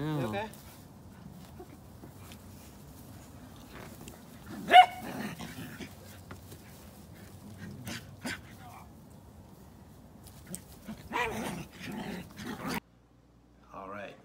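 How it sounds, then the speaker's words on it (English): A dog barks and yelps in a few sharp, fairly close outbursts separated by quieter stretches, with voices audible around the sounds. "the dog was okay. She just yelped, no broken paws."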